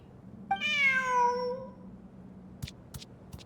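A cat in the Genshin Impact video game gives one clear, drawn-out meow up close, followed by a few soft footstep-like taps and quiet clicks, with no talking.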